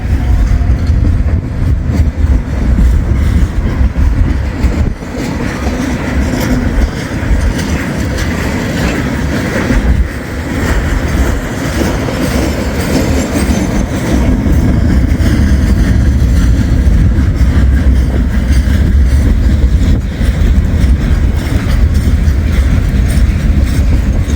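Freight train of gondola cars loaded with old railroad ties rolls past up close, a steady loud rumble with rhythmic clickety-clack of wheels over rail joints and faint squeals throughout.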